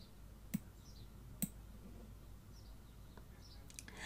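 Two sharp, quiet computer mouse clicks about a second apart in a near-silent room, followed by a fainter tick.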